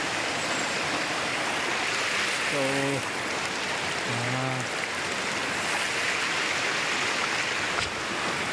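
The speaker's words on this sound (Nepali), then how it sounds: "सार खोला बग्छ यसरी हो।" A village river flows with a steady, unbroken rushing wash. Two brief tonal calls rise faintly above the water midway.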